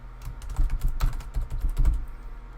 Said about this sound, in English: I just realized I forgot to type in dual strike.